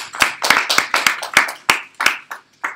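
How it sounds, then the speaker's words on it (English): Scattered applause from a small class at the end of a university deep learning course, sparse individual claps close by in an irregular, thinning rhythm over a few seconds. "Give yourselves a round of applause."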